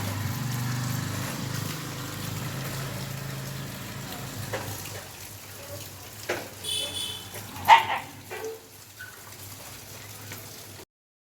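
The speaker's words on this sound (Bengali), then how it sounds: "কুকুরগুলো ঝগড়া করছিল" Dogs squabbling outdoors, with a handful of sharp barks and yelps bursting out at mid-distance over a steady low background rumble.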